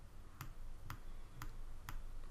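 Computer mouse clicks while an icon is being changed in a website builder, five sharp, evenly spaced clicks, close and quiet, over a low background hum.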